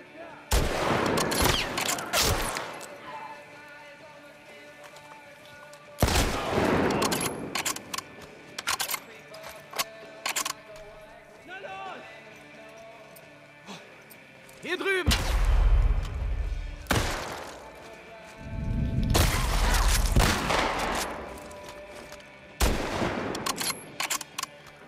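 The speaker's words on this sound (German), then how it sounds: "Wo kommt der Schuss denn jetzt her?" Gunfire in the video game The Last of Us Part II, with loud sharp shots and heavy bursts scattered irregularly across quieter stretches, some close and booming, others lighter, with a voice speaking briefly between them.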